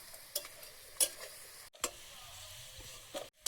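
Potatoes fry in hot oil with a soft, steady sizzle, broken by a few sharp clinks and scrapes as they are stirred and lifted out.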